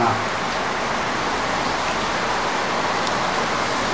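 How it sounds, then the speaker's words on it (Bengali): Heavy rain drums on a tin roof in a continuous dense roar, loud and even from start to finish with no break. "অঝর বৃষ্টি ঝরতেছে।"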